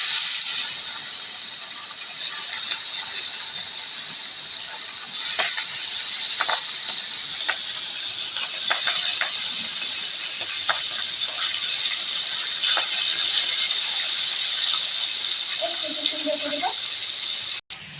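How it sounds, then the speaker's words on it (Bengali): Rohu fish pieces frying in hot oil make a loud, steady, hissing sizzle that runs unbroken throughout, with a few faint clinks near the end. "মাছগুলো কি সুন্দর লাল লাল করে ভাজা হয়ে গেল"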